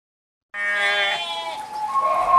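A goat bleats loudly and up close at a sacrificial animal market in Bali ahead of Eid al-Adha, one long wavering cry after a moment of silence, with more bleating trailing off.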